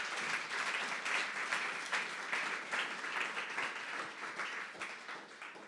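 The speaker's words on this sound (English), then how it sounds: "So a quick round of applause for my co-founders." An audience at a Central Oregon pub talk gives a steady round of applause for the co-founders, dense clapping that holds evenly and fades slightly toward the end, with no talking over it.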